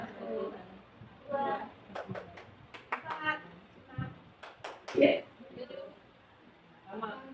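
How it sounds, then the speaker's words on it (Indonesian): A school class claps a counted rhythmic pattern of short, sharp hand claps in quick groups, mixed with children's and adult voices talking over and between the claps. "369 tepuk tangan. 369 tepuk tangan"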